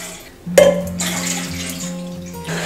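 Two glasses of water are poured into a pot to be boiled, giving a close, splashing pour that starts suddenly and runs for about two seconds before tapering off.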